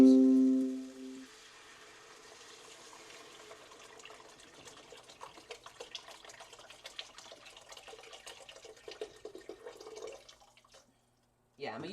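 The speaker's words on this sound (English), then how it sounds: "So, we add our vegetable broth first." Vegetable broth pours from a carton into a cooking pot, a soft continuous splashing and glugging trickle that fades near the end, with a voice speaking briefly at the start.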